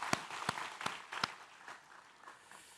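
Congregation applause during a Korean church worship service: a handful of sharp, separate claps with soft scattered clapping between them, quickly thinning out into near quiet in a reverberant room.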